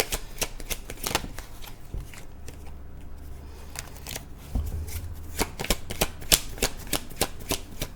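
Tarot cards being shuffled in a series of crisp riffling bursts and soft slaps, close and clear, with no speech over them.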